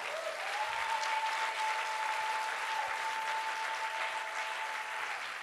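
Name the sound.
congregation applauding and cheering in church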